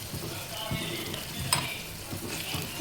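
Thecha chili paste sizzles in oil in a pan as it is stirred, giving a soft steady frying hiss broken by several light scrapes and one sharp metallic clink near the middle, fairly quiet and without speech.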